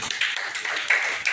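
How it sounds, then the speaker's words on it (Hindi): A brief burst of audience clapping at a judiciary introduction talk, crisp bright claps in quick overlapping bursts, moderately loud and steady across the short span. "जोरदार तालियां होनी चाहिए"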